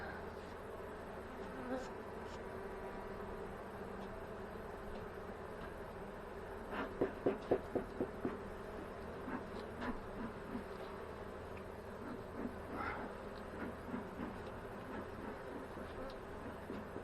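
A dense, steady buzz of many honey bees in a hive fills the air close by, with a brief burst of rhythmic tapping partway through.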